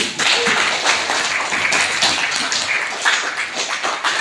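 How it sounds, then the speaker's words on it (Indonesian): A classroom of students claps together at the start of a lesson, a dense, steady patter of many hands held close and even throughout. "Tepuk tangan dulu untuk kita."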